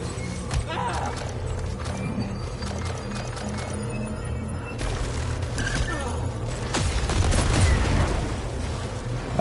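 Gunfire from a weapon in the sci-fi shooter Returnal, a dense run of rapid shots and impacts mixed with game effects and music, steady and fairly loud throughout and building toward the end.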